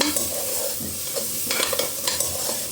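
Mushrooms stir-fry in a pan for mushroom pulao, giving a constant hiss of frying with scattered scraping stirs near the end, close and with no voices.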